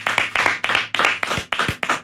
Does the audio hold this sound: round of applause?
yes